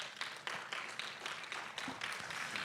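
Applause in a church congregation for the Lord during an afternoon prayer service, a steady broad wash of clapping at moderate level with no talk over it.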